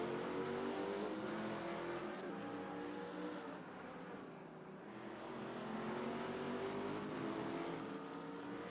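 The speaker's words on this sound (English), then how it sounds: "Bazzi 321 driving a Chrysler Viper GTSR" Race cars in an AI racing video game, including a Chrysler Viper GTSR, give a continuous droning engine tone with sustained, gently shifting pitch, moderately distant and steady throughout, with no talk.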